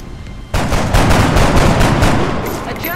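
Dense burst of gunfire from several soldiers firing at once in X-Com Enemy Unknown, starting abruptly after a quiet moment and rattling on loudly for a few seconds as overlapping shots blend together.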